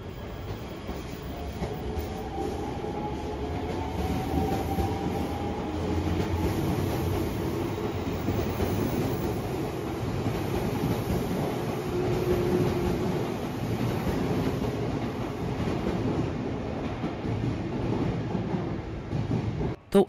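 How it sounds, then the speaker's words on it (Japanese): A train pulls away from Yoyogi-Hachiman Station in Tokyo with a continuous rolling rumble and rattle, a faint wheel squeal rising briefly partway through. "まずはいつものごとく乗ってきた列車を見送りたいと思います。"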